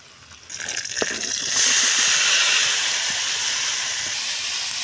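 Onions frying in a pan for a Bengali winter cauliflower dish, a loud steady hiss and sizzle that swells sharply after a soft start and holds close and continuous, with no talk.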